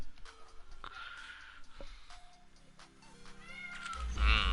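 A house cat meows close to the microphone during a Madden 19 gaming session, giving several drawn-out cries with a louder, strained yowl at the end over quiet background sound.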